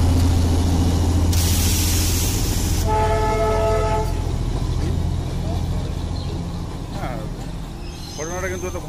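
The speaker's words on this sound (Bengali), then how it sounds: "দার্জিলিংয়ের সেই বিখ্যাত টয় ট্রেন ঠিক তার লাইনের পাশ দিয়েই আমাদের গাড়িটা দৌড়চ্ছিল।" The Darjeeling toy train runs alongside the road beside a moving car. A loud, continuous rumble of the train and traffic is broken by one clear, sustained horn toot partway through, followed by fainter clatter.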